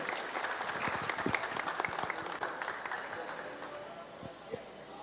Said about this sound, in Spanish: les pido que le demos un caluroso aplauso para disfrutar de la presentación